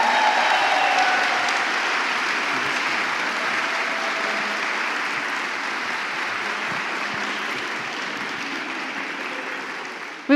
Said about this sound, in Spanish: queremos darle un fuerte aplauso de bienvenida a ellos